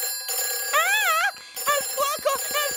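An emergency telephone in the Peppa Pig cartoon rings with warbling electronic tones in short repeated bursts, loud and close.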